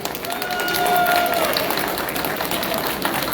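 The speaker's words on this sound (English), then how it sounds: "Let's have a round of applause for Team AIC for giving us the memories of a lifetime." Crowd applause for a team at a speeches-and-performances event at the Ambedkar International Center, a diffuse wash of clapping that swells and then holds steady, with some voices mixed in.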